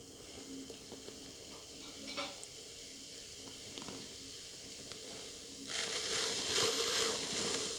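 A metal trimming tool scrapes and cuts around a clay bowl, working from the opposite side of the blade, making a soft, continuous gritty scratching that swells into a brighter, louder rasp near the end.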